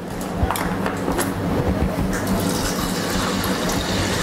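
Water pours and splashes steadily into a cooking pot of rice, a continuous gushing stream with a few sharper splashes near the start.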